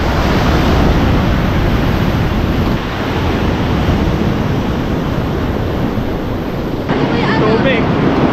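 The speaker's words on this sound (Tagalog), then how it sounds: "Taas lang ng alon." Heavy surf pounds a rocky shore at a famous rock formation on Ampere Beach in Dipaculao, Aurora, with high waves making a loud, continuous roar and rush of water, wind buffeting the microphone throughout.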